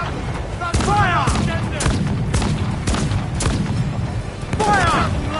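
Ship cannons fire in a naval battle in Assassin's Creed 4 Black Flag, several sharp booming blasts spaced unevenly across the span, with voices talking between the shots.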